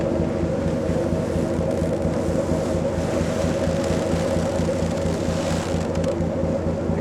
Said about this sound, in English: Hear the engine working as it tries to push us through this fairly solid ice pack